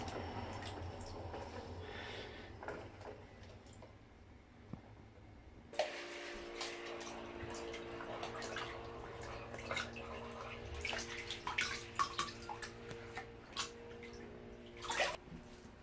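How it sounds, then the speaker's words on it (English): Aquarium canister filter parts from a Sun 304B, including bio-media trays, rinsed under a running tap, with faint dripping at first, then a steady rush of water and intermittent splashes close by. "And we'll give that a good rinse as well."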